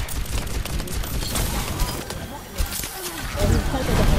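Rapid gunfire from Bastion, the robot hero in the Overwatch video game, crackles in dense bursts through a busy match, with player voices talking over the shooting.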